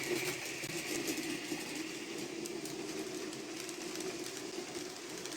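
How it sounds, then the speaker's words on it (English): An 800 model train runs along the inside lower loop of a layout, giving a faint, steady rolling rumble with light rail clatter and no talking. "watch the 800 come along the inside lower level loop"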